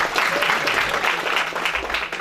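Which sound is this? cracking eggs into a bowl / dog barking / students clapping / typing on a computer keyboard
students clapping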